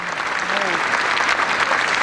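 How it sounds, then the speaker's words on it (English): Steady, dense applause from a large crowd gathered in a square for Pope John Paul II, continuous and loud throughout, with a few voices mixed into the clapping. "They prayed and they clapped their appreciation of his very existence"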